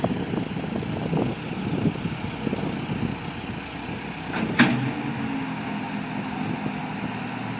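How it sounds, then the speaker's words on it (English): A four-cylinder Cat engine in a 2007 Caterpillar TL943 telehandler runs at a steady idle, with a dull mechanical clatter throughout and one brief sharp knock midway. "Got a cat engine in it, four cylinder."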